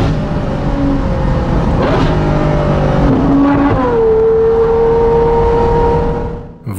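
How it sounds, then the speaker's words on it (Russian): Novitec-tuned Ferrari 812 N-Largo V12 revving hard through a tunnel with windows down, loud engine roar climbing in pitch with distinct gear shifts around two and four seconds, continuous and close throughout. "Звуки переключения — это мое любимое. Эти машины такие быстрые и агрессивные. Ну еще и громкие."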